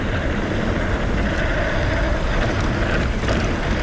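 Strong wind roars continuously across a GoPro Hero 7 Black action camera during a mountain bike ride, a loud, steady broadband buffeting with no voices.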